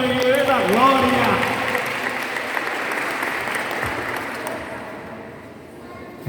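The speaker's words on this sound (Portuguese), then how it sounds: "E uma salva de palmas aqui pro menino da glória." An audience applauding at a prayer group seminar, a burst of clapping that gradually fades away, with a voice speaking over the start.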